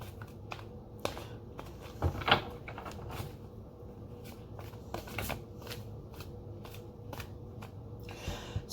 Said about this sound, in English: I put it back in and shuffle